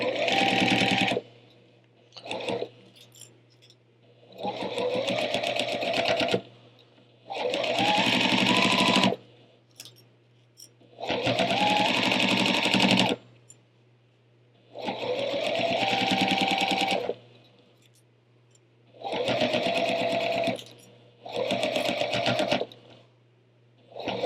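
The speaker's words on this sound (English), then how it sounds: "now we're going to go along this whole edge and stitch this down" A sewing machine stitches down the edge of a cathedral window quilt in repeated loud, close bursts of running, each a few seconds long, separated by short pauses with a low hum continuing underneath.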